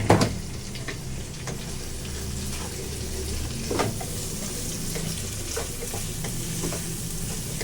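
Onions frying in a pan with turmeric and salt, a steady close sizzle with occasional stirring scrapes throughout.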